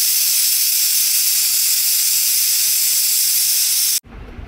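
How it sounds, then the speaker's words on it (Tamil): A pressure cooker on the stove vents steam while sugar-sweetened food cooks inside, giving a loud, steady, close hiss for about four seconds that cuts off abruptly into quieter room tone. "சரியாக 2 விசில் போனதும் நான் வந்து ஃப்ளேம் ஆஃப் பண்ணிட்டேன்."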